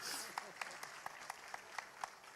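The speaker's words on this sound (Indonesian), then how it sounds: "tepuk tangannya saya tengok ragu-ragu nih" Sparse, hesitant clapping from an audience at a Ramadan religious festival in a large stadium, a few scattered distinct claps spaced irregularly over a faint background murmur, with no full round of applause building up.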